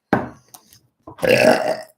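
A person burps loudly and close up during a live psychic reading: first a short abrupt belch, then after a pause a longer, drawn-out rumbling burp lasting nearly a second.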